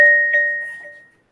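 A glass object is struck once, giving a clear ringing ding with two sustained tones that decay smoothly over about a second, close and alone.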